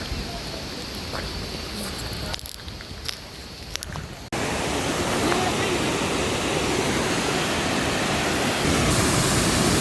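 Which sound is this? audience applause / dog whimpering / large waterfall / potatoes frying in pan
large waterfall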